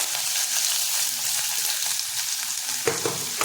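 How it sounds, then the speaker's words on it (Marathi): Cumin, onion, garlic, curry leaves and a pinch of asafoetida sauté in a hot pan, giving a steady close sizzle with no talk. A few louder crackles and stirring sounds come near the end. "कढीपत्ता आणि चिमूटभर हिंग, सगळं आपल्याला एकत्र परतच राहायचं आहे बघा."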